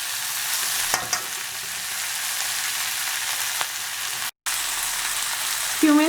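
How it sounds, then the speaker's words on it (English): Cauliflower pieces sauteing in a pan over a medium gas flame, a steady broadband sizzle with a few brief clicks of stirring, one short silent gap and a faint voice near the end. "Put your gas to a little bit higher, medium, and let them saute."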